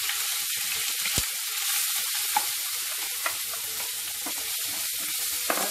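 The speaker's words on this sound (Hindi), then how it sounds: "और प्याज को हल्का सा लाइट ब्राउन होने तक हम भूनेंगे इसमें" Onion fries in oil with cumin, bay leaf and cinnamon, making a steady close hiss and sizzle, broken by a few sharp clicks and taps from a spoon against the pan.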